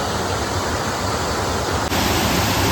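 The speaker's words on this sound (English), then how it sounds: "It almost sounds like there's a new flow of water coming" Waterfall pouring into a deep gorge pool in Wintergreen Gorge near Erie, Pennsylvania, heard from above as a steady, dense roar of rushing water that holds constant throughout, with no voices.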